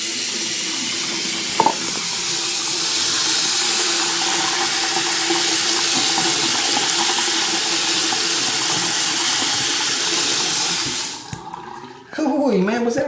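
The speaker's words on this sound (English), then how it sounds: "We're going to rinse it off." Running tap water pours steadily and fairly loudly as a Zenesis tank's wick and core are rinsed, a continuous rushing hiss that stops abruptly near the end, followed by brief handling noises.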